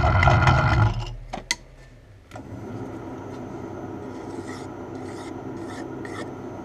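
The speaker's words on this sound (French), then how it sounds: "Un petit coup de lime là-dessus." A hand file rasping a machined pump fitting, with a few loud, close scraping strokes at the start and a couple of knocks before a steady low machine hum takes over.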